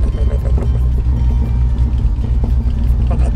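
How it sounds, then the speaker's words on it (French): A Peugeot 106's engine runs on a mountain road in Japan, a steady close, loud low rumble that holds through the whole stretch with slight swells in pitch. "On entend la voiture."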